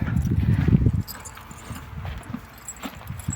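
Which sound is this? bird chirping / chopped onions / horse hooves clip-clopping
horse hooves clip-clopping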